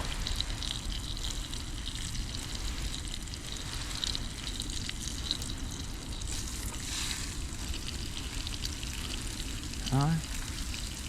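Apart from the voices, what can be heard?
bacon wrapped asparagus and tuna steaks cooking in pot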